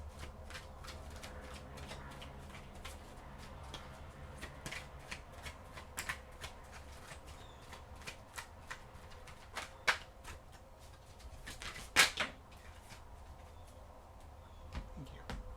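Oracle cards being shuffled by hand, a soft papery riffling with scattered sharper snaps and taps, fairly quiet and close, with no talking.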